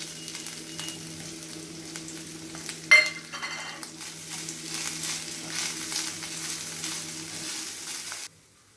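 Lentils, red chillies, curry leaves and coconut frying in a pan for a tamarind flower chutney, a steady close sizzle with stirring, a brief clank early on, then an abrupt stop near the end.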